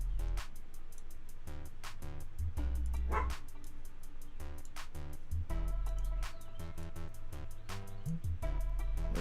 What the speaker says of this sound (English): Sometimes dogs are loud.